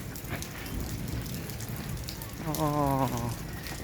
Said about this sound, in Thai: ดีมาเจอ ฝนตก